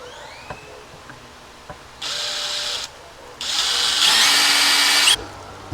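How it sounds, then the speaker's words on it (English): A handheld power drill bores a pilot hole for a step bit, working on a 2025 Toyota Tacoma, in two close bursts: a short whir and then a longer, louder high-pitched run that stops sharply. "let's get a pilot hole started for our step bit."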